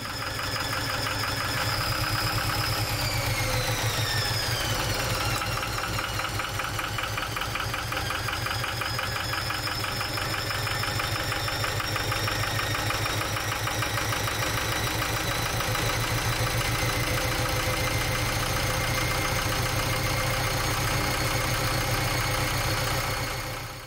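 A sailboat engine idles and runs continuously, a loud, even mechanical drone with a rhythmic knocking pulse and a whining tone that rises briefly early on.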